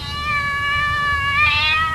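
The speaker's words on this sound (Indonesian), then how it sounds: "Ada lagi kucing yang bunyinya" A cat meows in one long, drawn-out call that rises at the end, close and clear, with no other voices.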